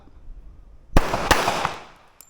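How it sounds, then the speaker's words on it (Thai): A handgun fired at close range during defensive shooting practice: a sharp, loud crack followed quickly by a second report, both trailing off into a reverberant decay after a quiet lead-in. "พออัพแล้วก็ดันปืนยิงออกไปเลยนะ"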